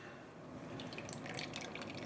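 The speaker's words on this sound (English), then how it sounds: "the water's coming slowly that I think something is trapped." Water slowly trickling from a sink tap through a dye filter, a faint, steady wet flow with small drips, heard alone.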